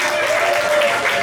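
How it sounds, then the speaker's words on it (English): An audience at a comedy fest show claps as an announcer is called to the stage, a dense, even wash of applause with voices blended into it. "Let's clap for Kia"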